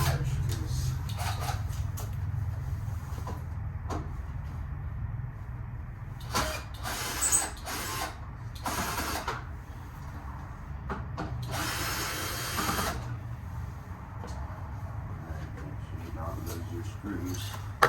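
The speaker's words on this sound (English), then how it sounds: "I might be able to just do it with the drill." Power drill backing screws out of a 2012 Toyota Corolla front bumper in short whirring bursts of a few seconds each, separated by pauses, fairly close over a low background hum.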